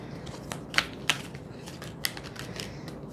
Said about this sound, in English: I'm gonna continue to shuffle because this is basically the same reading